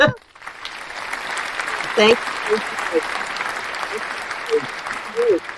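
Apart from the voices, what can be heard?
audience applause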